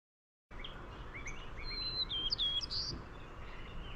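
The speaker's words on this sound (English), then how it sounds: "Now this song is going to be the song of a white-crowned sparrow, but the end of it is really buzzy." A white-crowned sparrow sings nearby, clear whistled notes followed by a quick trilled, buzzy ending, over faint outdoor background noise after a moment of silence.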